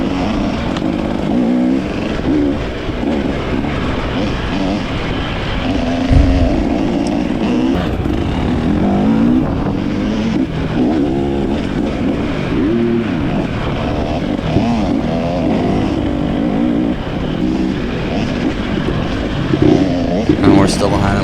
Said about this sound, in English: I am revving at this fella to move over for me.